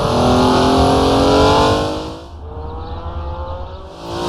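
A vintage race car in Assetto Corsa revs loudly with a rising then easing engine whine, the pitch dipping briefly as the throttle lifts before building again, steady and close with no talk.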